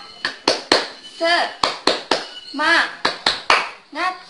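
An Indonesian "tepuk semangat" classroom clapping chant: sharp, close hand claps in a set pattern, alternating with short chanted syllables from a teacher's voice leading the rhythm.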